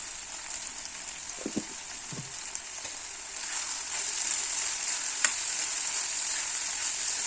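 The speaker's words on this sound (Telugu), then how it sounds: "ఇవి ఇలా ఫ్రై అవుతూ చక్కగా నీట్గా ఫ్రై చేసుకోవాలి." A steady bright sizzle comes from vegetables frying in a pan for a capsicum curry, with a few soft stirring knocks and scrapes early on and no voices.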